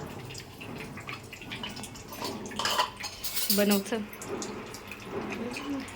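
A kitchen tap runs while someone washes their hands at home, a steady splashing hiss mixed with light clinks of dishes and utensils, as women chat nearby.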